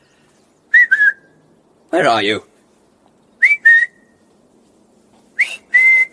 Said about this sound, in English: You whistled, my lord.